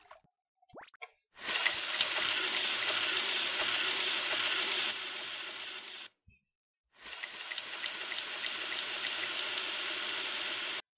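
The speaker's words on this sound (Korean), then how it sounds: "자, 춘장 태워보자." Black bean paste scorching in a hot pan in a flash cooking game, a loud, steady sizzling burst that runs for several seconds, cuts off briefly, then resumes at a similar level.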